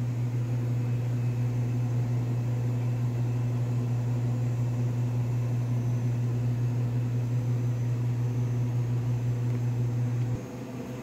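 An oven running with seasoned tuna fish inside, a steady close mechanical hum with a constant low drone that cuts off near the end.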